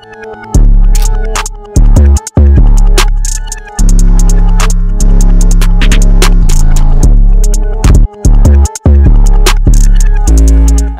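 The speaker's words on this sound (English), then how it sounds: "this is what the final beat sounds like." Finished hip-hop beat for a song plays loud and full, with heavy sustained bass notes, punchy drums and brief drop-outs where the beat cuts to silence before slamming back in.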